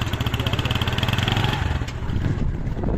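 Motorcycle engine running close by with a rapid, pulsing putter, revving briefly and then settling to a steadier idle.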